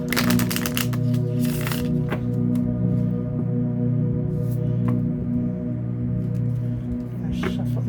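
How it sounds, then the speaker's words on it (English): Small tarot card deck being shuffled by hand, with bursts of riffling and soft card slaps set against a steady low room hum, close and moderately quiet. "I'm gonna shuffle these babies up."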